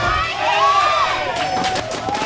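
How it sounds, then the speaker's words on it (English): Cheering and shouting from a live crowd at a StarCraft 2 match swell loudly, mixed with a caster's excited voice over the noise. "Huge, huge cheer for MarineKing."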